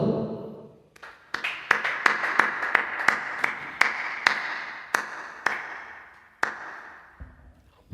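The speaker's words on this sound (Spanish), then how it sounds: "un fuerte aplauso." A small audience at a Spanish-language theatre performance claps in a sparse, fairly steady series of separate hand claps, close and moderately loud, after a brief low murmur at the start.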